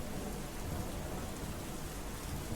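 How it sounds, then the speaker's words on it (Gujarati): Heavy monsoon rain with strong wind during a storm in Gujarat, a dense, continuous roar of downpour with deep rumbling underneath, loud and unbroken throughout. "ભારે પવન સાથે વરસાદનું આગમન ગુજરાતના તમામ જિલ્લામાં જોવા મળ્યું."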